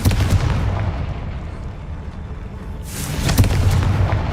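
Confringo blasting spell detonating in Hogwarts Legacy, a loud deep boom rolling out and fading, followed about three seconds later by a second sharp crackling blast with heavy rumble.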